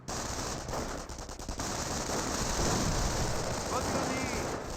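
MG42 machine gun fire in the Company of Heroes video game, heard as a dense, continuous roar of rapid automatic bursts mixed with battlefield noise, loud and steady throughout.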